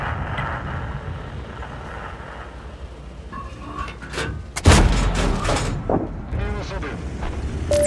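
A T25 AT tank destroyer's main gun fires in a tank battle video game, one sharp loud boom near the middle cutting through ongoing engine rumble and battle noise, followed by a decaying echo.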